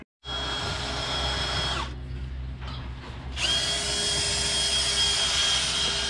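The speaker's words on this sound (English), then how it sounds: "drilling the first hole so we can start hanging up the new channel" A power drill bores a hole for new stall channel in a dairy barn, its loud steady whine running alone with a brief dip partway through before resuming at full speed.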